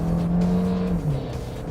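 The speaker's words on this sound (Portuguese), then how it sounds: "Eu vou acelerar forte" A 2023 Kia Sportage hybrid SUV accelerating hard, a loud, close engine drone that holds a steady pitch and then dips briefly as the revs shift, continuing strong to the end with no talking.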